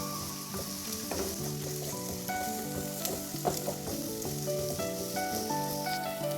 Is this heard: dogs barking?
no